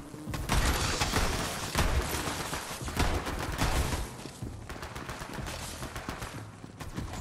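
Dense, rapid gunfire and explosions from the shooter game Borderlands 3 roar without a break, with overlapping bursts of shots and heavy booms close and loud.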